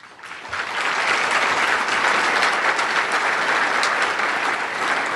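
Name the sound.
banquet audience applause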